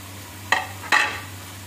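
Capsicum tossed in a hot pan with chicken, chili, salt and black pepper: two short bursts of scraping and sizzling from stirring, separated by quiet, with a low steady hum underneath.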